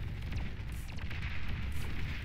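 Artillery barrage in the real-time strategy game Beyond All Reason, a dense rumbling stream of distant booms and overlapping explosions, with several sharper blasts standing out against a continuous low roar.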